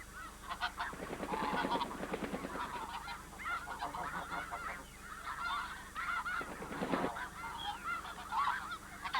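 Several geese honk in loud, repeated bursts, some calls overlapping, with short pauses between the noisy flurries.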